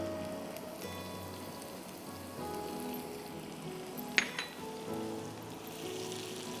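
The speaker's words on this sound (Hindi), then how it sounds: "थोड़ी सी प्याज को सौटे करेंगे। फिर इसमें मैं डालूंगी चॉप्ड गार्लिक 1 टीस्पून," Onion and a teaspoon of chopped garlic sauté in a pan, a steady soft sizzle and crackle running throughout at moderate level, with one brief clink of a utensil near the middle and no voices.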